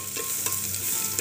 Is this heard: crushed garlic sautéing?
yes